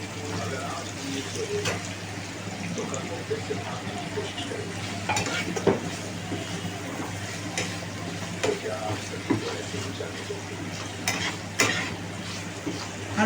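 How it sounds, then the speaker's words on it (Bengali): Corn and green peas stir-fried in a pan for a prawn Maggi noodle dish: a continuous sizzle with busy spatula clinks and scraping against the pan throughout, close and fairly loud. "ভালো করে একটু সবজিগুলো একটু ভেজে ভেজে নেব।"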